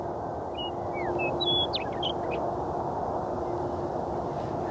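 A bird sings outdoors on a spring morning, giving a few clear chirps and short whistled phrases over a steady background hush, moderately near and fairly faint.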